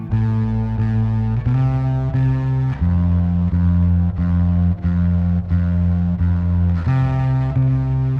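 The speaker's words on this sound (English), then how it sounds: "Let's blend in some distortion to the wet bass signal." A distorted bass guitar plays a slow, sustained line of held notes, gritty and buzzing with overdrive, loud and steady with no voices.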